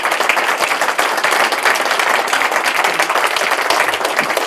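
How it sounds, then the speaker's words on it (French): An audience bursts into dense, sustained applause at a gathering, loud continuous clapping with no break from start to finish. "Vous devez vous applaudir."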